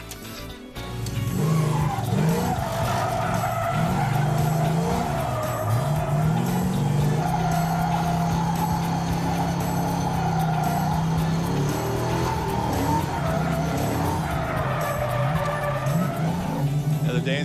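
A 1966 Chevrolet hot rod does a sustained burnout, engine roaring steadily while the tires squeal and skid loudly for many seconds, with a brief voice heard near the start.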